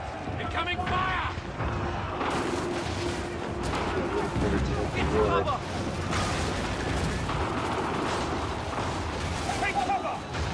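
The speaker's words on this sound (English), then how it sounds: "Incoming fire!" Artillery fire in Assassin's Creed 3 goes off in repeated booms and cracking volleys, a dense, chaotic battle din with mechanical clatter, and voices talking over it.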